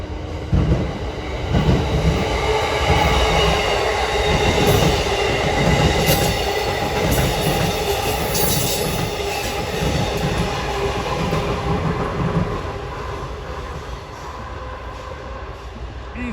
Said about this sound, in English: Here comes train 651 to Harrisburg now at 5:55.